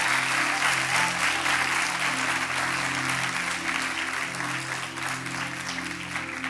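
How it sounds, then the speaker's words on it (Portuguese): A church audience applauds steadily and warmly. The sustained dense clapping sits over a held musical tone from an instrument, fading slightly toward the end. "pedir para que vocês pudessem aplaudir a Jesus pela vida de vocês"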